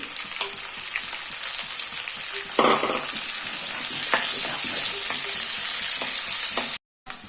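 Two large onions frying in hot oil for a Coorg-style chicken pepper masala, a steady bright sizzle throughout with occasional stirring scrapes and a louder burst near the third second, no talking.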